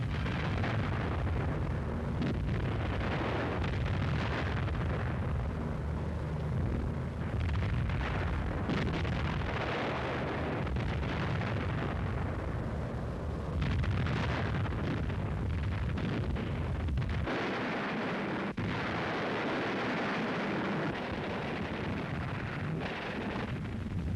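Wartime bombs exploding on German rail yards and supply dumps, a continuous loud roar of blasts and rumbling detonations with bursts and pops, dense and sustained throughout.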